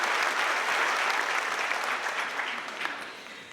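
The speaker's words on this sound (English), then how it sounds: "let's give them one more round of applause" Graduation ceremony audience applauding in a sustained, dense wash of clapping that holds steady and slowly fades toward the end, with no voices over it.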